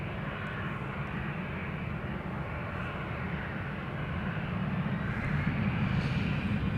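An easyJet airliner departs Amsterdam Schiphol bound for London Luton, giving a steady, moderately distant jet rumble that holds even and builds slightly toward the end, with no talk.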